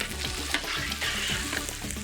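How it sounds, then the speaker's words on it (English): Bomba rice sizzles and fries in a pan while being stirred until the grains turn shiny, a steady close crackle with soft scraping and no talking. "Cook the rice until the grains are shiny."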